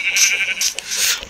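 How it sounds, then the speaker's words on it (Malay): A goat bleats in Minecraft, a short game sound effect repeated in quick bursts across the moment, fairly loud and alone. "Kambing."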